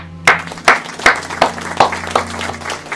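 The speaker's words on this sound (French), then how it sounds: "on peut l'applaudir" About eight distinct, evenly spaced claps ring out in a steady rhythm over a constant low hum as an audience applauds at a year-end show.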